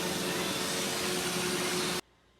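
A Roomba i7 robot vacuum runs with a steady, even broadband whir and a faint tonal hum, then cuts off abruptly after two seconds into near silence.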